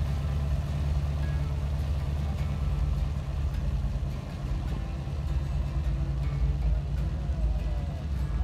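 A Gator utility vehicle idles at Burning Man with a steady, close engine rumble that holds unbroken throughout, low and continuous.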